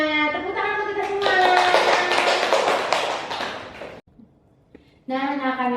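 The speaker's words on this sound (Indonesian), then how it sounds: "Tepuk tangan untuk kita semua." Children applaud in a fourth-grade elementary classroom, a burst of quick, dense claps lasting a few seconds. An adult voice speaks before and after the clapping.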